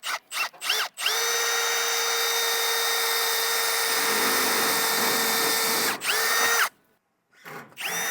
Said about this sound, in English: I'm actually gonna pre-drill some more